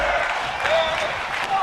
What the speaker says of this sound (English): the bloodthirsty crowd here in Allentown is getting into it